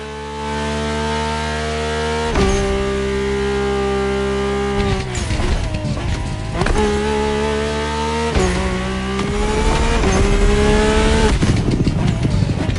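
A Mercedes-AMG One hypercar driving by, its loud high-revving engine climbing through gear changes with sharp drops between shifts, sustained and close throughout.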